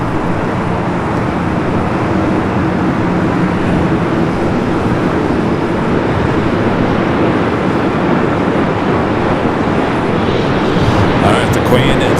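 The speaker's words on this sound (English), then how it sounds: "787-9 Dreamliner will be arriving on the north side" Steady, loud broadband roar of a Boeing 787-9 Dreamliner jet at LAX, continuous for the whole span with a slight rise near the end, no talk.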